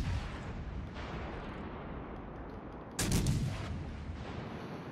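Battleship main guns firing in World of Warships from a German tier 5 battleship, with a low rumbling backdrop, a faint early thud, then a sudden loud booming blast about two-thirds through that trails off.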